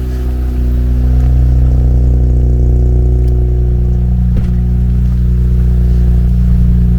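A Mazda Miata's engine catches and settles into a loud, close, steady idle with a low rumbling hum and light mechanical clatter, running alone without talk.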